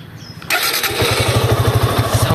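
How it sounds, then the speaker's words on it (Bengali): Suzuki Gixxer SF FI ABS motorcycle engine starting: a short quiet lead-in, then the engine catches abruptly and settles into a loud, close, even idle pulse. "বাইকটা যদি চালু করে যদি সাউন্ডটার কন্ডিশন দেখায় আপনাদেরকে তাহলে বুঝতে পারবেন"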